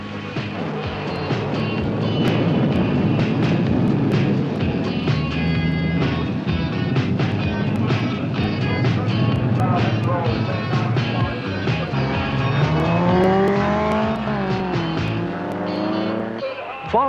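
Jet-powered drag racing car at a drag strip, a loud sustained roar and whoosh building and lingering over about seventeen seconds, with rising tonal sweeps near the end.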